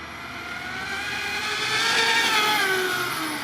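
A JLB Racing Cheetah 21101 RC car makes a speed run, its electric motor whining steadily and rising in pitch as it accelerates, loud and close, then easing slightly toward the end with no voices.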